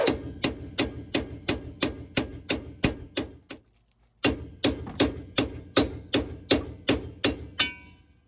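Hammer blows ring out against a stuck sway bar end link bolt under a GMC/Chevy truck's front end: a fast, even series of about ten sharp metallic strikes, a brief pause, then another burst of similar hits, loud and close.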